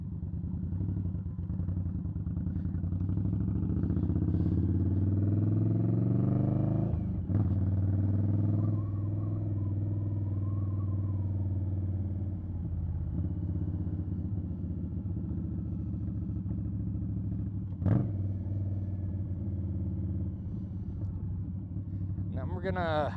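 Engine of a 2020 Indian Scout Bobber motorcycle while riding, a steady low rumble running throughout with a couple of brief sharp clicks, likely gear shifts, and a voice talking over it at points.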